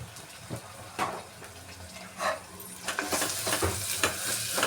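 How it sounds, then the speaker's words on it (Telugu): A spoon stirs ginger-garlic paste and turmeric in a pan, with a few separate scraping strokes over a soft sizzle. Near the end the strokes come faster and the frying sizzle grows louder and brighter. "ఇది వేసుకొని కొంచెం పసుపు వేసుకొని కలిపేసుకున్నాం."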